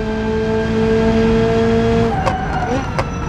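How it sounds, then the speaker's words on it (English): A race car in BeamNG locks one front wheel under trail braking. A steady engine drone gives way to short, sharp tire squeals, with someone talking over it. "you get constant one-wheel lockups when trail braking, as you saw there"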